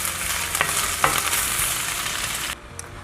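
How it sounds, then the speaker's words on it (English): Carrots sauté in hot oil in a pan, a dense close sizzle with a few sharp spatula scrapes, dropping suddenly to a quieter hiss near the end; no one speaks. "We're going to saute this in the carrots"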